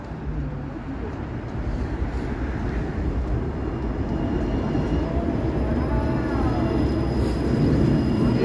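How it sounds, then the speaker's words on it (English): A Finch West light rail train in Toronto arrives at a stop with a steady, loud rumble that builds slowly over several seconds, with faint squeals on top of the broad low roar. "But here comes the train."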